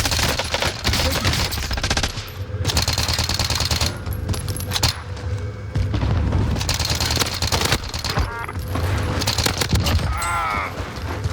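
Rapid automatic gunfire from the Milano submachine gun in a first-person shooter video game, sustained loud bursts filling the clip with short gaps between volleys.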